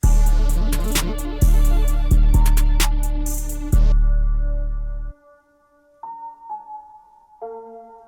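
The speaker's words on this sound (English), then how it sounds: "that's when I came up with this piano" Piano preset from a Memphis kit, dry and unprocessed: a few seconds of dense, loud sustained chords with sharp accented hits, then a sudden drop to sparse, softer single notes in a gentle walk-down. No voices.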